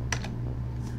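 Two quick bursts of computer keyboard typing on a Raspberry Pi setup, a short double clatter of keys early on and a faint tap near the end, over a steady low hum with no voices.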